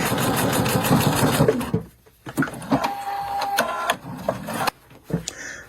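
A Pfaff sewing machine stitching quilt block pieces, bursts of rapid mechanical chatter at close range, pausing and restarting several times with brief silences between runs.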